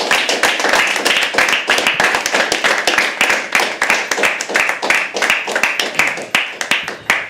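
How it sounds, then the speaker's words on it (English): Audience applause at an afternoon poetry open mic, a crowd of hands clapping at a quick, uneven rhythm with distinct individual claps standing out, close and lively throughout. "Can we have a huge round of applause and welcome our first act of the afternoon"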